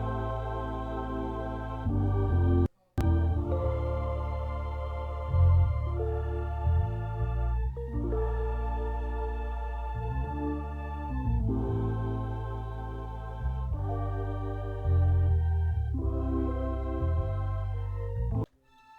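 Electric piano chords, choir, bass and strings play together in a smooth, sustained layered progression with deep low end, interrupted briefly by a short click and gap near the start.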